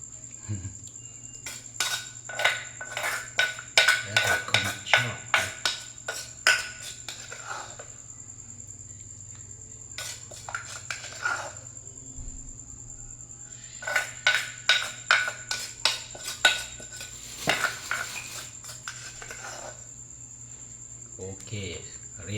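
Som tam, a spicy Thai papaya salad, being scooped onto a plate with metal utensils, giving bursts of clinking and scraping in two clusters over a steady background hum.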